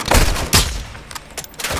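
Rapid bursts of gunfire in the Call of Duty video game while shooting down a target, loud and close, with booming volleys and fast repeated shots alone.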